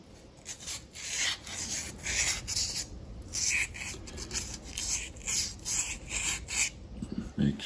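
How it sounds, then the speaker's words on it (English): Sandpaper rubs back and forth over the crankcase of a Genie pump during cleaning, a close, rhythmic raspy scrubbing in repeated strokes with brief pauses. "We can do the same thing with a little sandpaper,"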